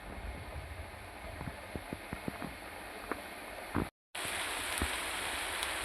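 Steady rain falling outside a home during a storm, a dense, even hiss with scattered drips and knocks nearby, briefly cut out once, with no talk.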